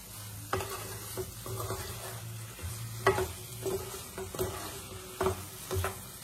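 Vegetables for shukto fry quietly in a pan under a soft, steady sizzle, while a utensil stirs them with repeated light scrapes and taps in an uneven rhythm.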